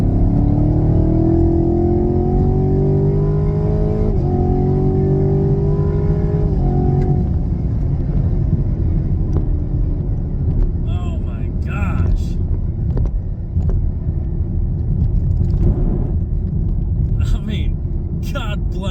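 A Chevrolet Camaro LT1 V8 roars as the car accelerates at full throttle from about 40-50 mph, pitch climbing through gear changes, loud and close, with voices talking over the later stretch.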